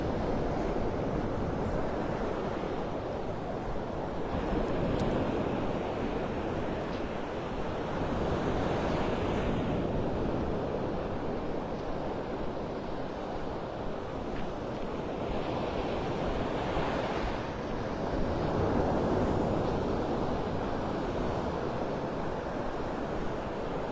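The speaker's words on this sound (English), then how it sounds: "this is the sounds of Mother Ocean out there." Continuous Gulf of Mexico surf at Pelican Bay in North Naples, Florida rolls and crashes onto the beach, a steady broad roar with gentle swells and some wind buffeting throughout.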